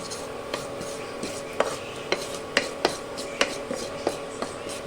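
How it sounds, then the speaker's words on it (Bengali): Ajwain seeds are stirred in oil in a wok, with a series of sharp utensil scrapes and clinks at an uneven rhythm over a faint, steady background sizzle. "জোয়ানটা আমি কড়াইয়ে দিয়ে নেড়ে নেব।"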